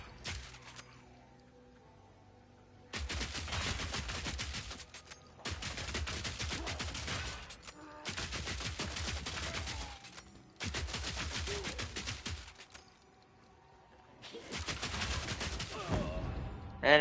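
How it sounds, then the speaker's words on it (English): Machine guns firing in the PS5 beta of Path of Exile II: several loud, sustained bursts of rapid gunfire, each lasting about two seconds, separated by short quiet pauses. "Fire the machine guns."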